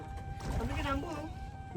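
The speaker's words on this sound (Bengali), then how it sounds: "আমরা ভাড়া করা ট্রলারে যাচ্ছি" A hired trawler boat travels on a river, its steady engine drone and water noise running continuously beneath voices talking nearby.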